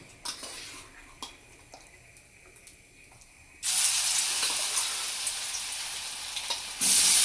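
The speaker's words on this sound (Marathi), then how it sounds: "आणि पूर्ण आपल्याला सोयाबीन अशी फ्राय करून घ्यायची." Soya chunks dropped into hot oil and frying, a few clinks of utensils at first, then a loud, steady broadband sizzle that surges up after a few seconds and grows louder near the end, close by with no talking.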